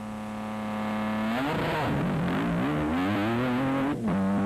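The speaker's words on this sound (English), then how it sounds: "Revving up a Mitsubishi Lancer." A Mitsubishi Lancer rally car engine idles with a steady hum, then revs up sharply in rising and falling surges, loud and close, at a Baja Spain rally event.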